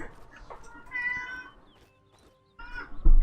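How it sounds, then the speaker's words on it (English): A cat meows several times in short squeaky bursts at close range, with a pause and then a louder call near the end. "Silly kitty, it made a lot of squeaky noises."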